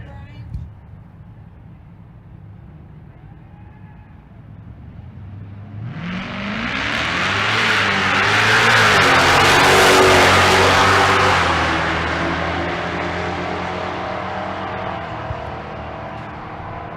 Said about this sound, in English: Tyler Yates, the Charger Hellcat.